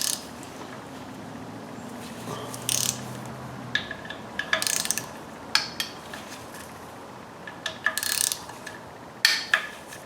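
A ratchet loosens T30 Torx bolts on the cylinder head of a 2011 VW Tiguan engine, giving short, scattered bursts of clicking with quiet gaps between, close and fairly soft.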